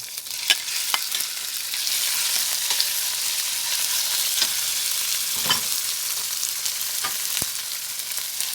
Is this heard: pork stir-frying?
yes